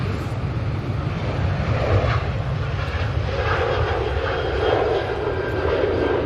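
Steady, loud roar of a Corendon passenger jet's engines at Manchester Airport, a broad rushing drone with wind noise that holds throughout without pause.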